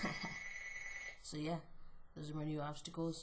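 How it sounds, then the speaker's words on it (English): A telephone rings nearby in a few tonal bursts during a parcel unboxing, partly under a man's speech. "sorry for the stupid phone ringing"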